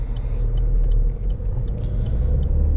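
Steady low car engine rumble inside a moving car being driven, continuous road and motor drone with faint higher ticks, no talking.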